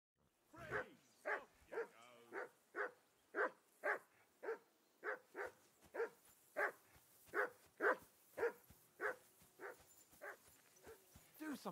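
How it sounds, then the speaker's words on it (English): A dog in a video game barks in a steady, evenly spaced series of about twenty loud yaps, close and regular, with a faint whimpering tone woven in. "Do something with that mutt, Henry."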